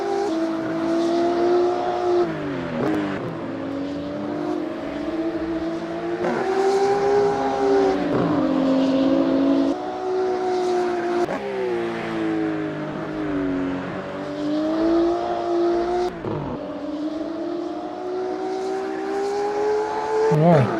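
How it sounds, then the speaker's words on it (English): A BMW M2 CS race car in a racing sim at Laguna Seca, its engine droning loud and steady as it revs up through the gears and drops back with each shift, with a commentator talking faintly underneath. "Jason bringing his beaten up BMW across the line."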